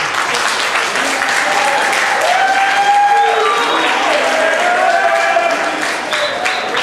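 Sustained, dense applause fills a high school Air Force ROTC ceremony hall for the first-place honor flight, with faint voices and a few tonal sounds mixed beneath the clapping.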